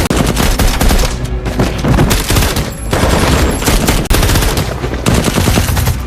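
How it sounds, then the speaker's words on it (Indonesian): Intense gunfire in a film battle scene, dense rapid bursts of machine-gun fire layered into a loud, continuous fusillade with sharp cracks. "mereka langsung disambut dengan brutal oleh puluhan hingga ratusan peluru"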